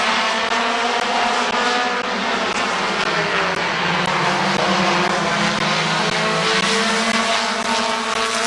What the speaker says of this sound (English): Top 3 broke away just a little bit, about 6 or 7 car lengths back to Huff and Dunwoody.